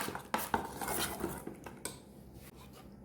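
Chopped green chilies, grated ginger and grated garlic stirred together in a bowl, giving a few clinking scrapes of a spoon against the dish with soft rubbing in between and a sharper knock at the end.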